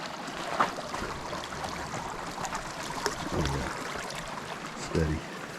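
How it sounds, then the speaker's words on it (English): A small creek crossed on a Pacific Crest Trail hike, its water flowing in a steady broadband rush, with a few soft knocks and thumps close by. "Be crossing this little creek down here several times."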